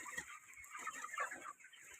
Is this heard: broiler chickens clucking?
yes